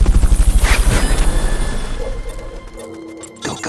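A helicopter's rotor chops in a fast, steady rhythm up close in the video game Metal Gear Solid: Peace Walker, then fades and thins out before a short thump near the end.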